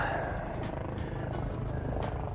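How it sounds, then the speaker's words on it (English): Police helicopter flying over a suburb of Surrey, British Columbia, giving a steady low rotor rumble with a faint rhythmic chop, fairly distant and unbroken, with a voice speaking over it. "That's actually a police helicopter."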